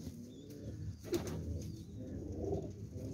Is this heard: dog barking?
no